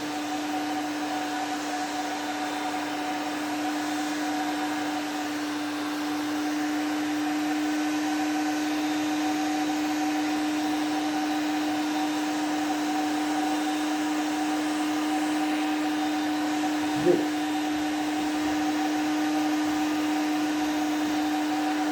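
A heat gun strips old lacquer from a Huon pine sail boat, giving a steady, loud blowing whir that runs unbroken throughout, with a single small knock near the end and no voices.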